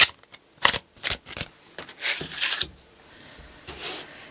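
Tarot deck being shuffled by hand, bursts of riffling and sliding cards in several quick, irregular bouts, close and fairly quiet, with no talking.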